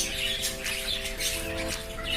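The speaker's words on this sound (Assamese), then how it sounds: "আৰু এয়া জাৱাজ বাৰ্ড, ইহঁতে ধান খাই খুব ভাল পায়।" Several Java sparrows in an aviary call continuously with bright, sharp chirps and squawks, overlapping and fairly close, over a steady low hum.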